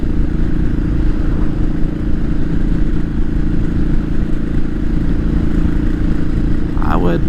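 A Royal Enfield 500 motorcycle rides along, its single-cylinder engine thumping steadily and loudly with wind rush, continuous throughout with a brief voice near the end.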